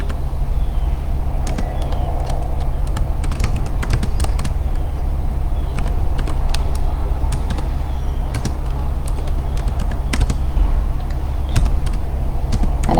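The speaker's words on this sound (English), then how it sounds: "I'm just typing this out" Fingers typing on a computer keyboard, irregular bursts of sharp clicking keystrokes over a low steady room hum, close by and with no talking.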